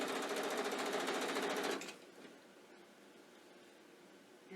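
Close and steady, a sewing machine runs for about two seconds while stitching rick rack binding, then stops abruptly, leaving faint room quiet.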